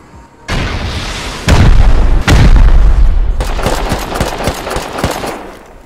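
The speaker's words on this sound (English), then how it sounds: "Yeah, we're getting shot now from inside." Gunfire and heavy explosions in the survival video game Rust: a loud burst of shooting is followed by two big booming blasts, then rapid rattling gunshots continue. No one speaks.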